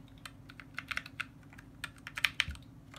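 Close, quiet clicks of a Magicforce 68-key mini mechanical keyboard, a loose series of sharp individual keystrokes with short pauses between them and no talk.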